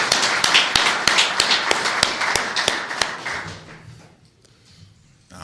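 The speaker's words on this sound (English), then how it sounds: "So let's get a round of applause for them real quick." Scattered, crisp hand claps from a small audience at a pro football draft pick's introductory press conference, steady for about three seconds before trailing off into quiet room tone.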